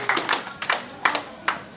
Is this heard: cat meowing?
no